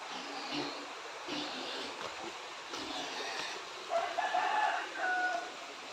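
A rooster crows and hens cluck faintly in a rural yard near a tree, with the crowing standing out briefly toward the end over soft outdoor background noise.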